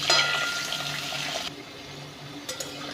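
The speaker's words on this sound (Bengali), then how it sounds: "তাই আগে আলুটা ফ্রাই করে নিচ্ছি।" Potato pieces frying in hot oil in a pan for a chicken and potato curry, a soft steady sizzle and hiss that drops quieter halfway through, with a few faint clinks near the end.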